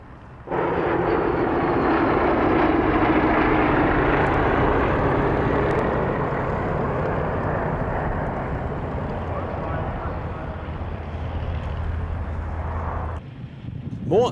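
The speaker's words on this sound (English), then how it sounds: "Next comes the smooth sound of three Bristol Mercury engines in the Blenheim and Gladiator." Three Bristol Mercury radial engines power a Blenheim and a Gladiator at the 1996 Duxford airshow, making a loud, steady, smooth drone that holds without a break from start to finish.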